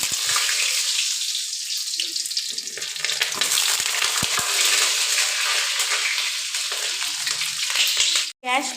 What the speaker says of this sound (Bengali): এখন পটলটা লাল লাল করে ভেজে নেব।